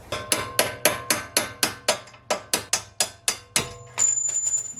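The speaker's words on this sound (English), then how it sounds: "And then you're gonna bang it out with a hammer" A hammer strikes repeatedly on a control arm bolt of an Infiniti Q50 during a coilover install, about a dozen sharp metallic bangs in a steady rhythm, close and loud, followed by a brief ringing scrape.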